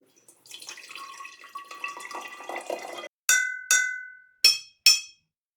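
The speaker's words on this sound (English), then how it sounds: "The tuning function is accessed by filling them with water." Water pours into glass milk bottles with a gurgling, rising fill for about three seconds. Four bright, ringing clinks then follow as the tuned bottles are struck one after another.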